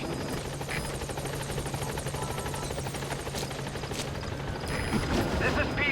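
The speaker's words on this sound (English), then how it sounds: "Support helicopter has arrived." A support helicopter settles onto a landing zone in Metal Gear Solid V: The Phantom Pain, its steady rotor thrum and turbine whine filling the scene, with faint game sounds and a raised rush of noise toward the end.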